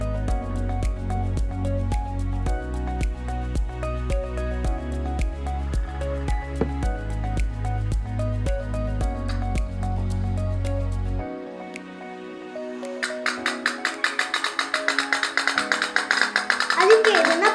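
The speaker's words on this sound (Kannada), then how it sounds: "ಅದಕ್ಕೆ ಇದನ್ನ ಪಟ್ ಬೋಟ್ ಅಂತ ಕರೀತಾರೆ" A putt-putt toy boat running on coconut oil and water sets up a quick, steady run of soft popping pulses near the end, after a stretch of background music.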